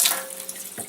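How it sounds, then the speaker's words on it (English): Water running through a LEVELUK K8 water ionizer makes a close, steady hiss of flowing water with a few faint clinks. "now what we'll do is we'll run some water through"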